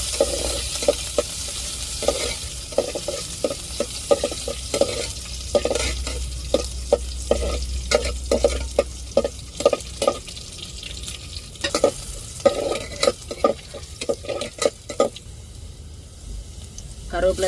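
Onions frying in hot oil while tempering for a fish curry, a steady loud sizzle with repeated stirring scrapes throughout, close up and alone without talk.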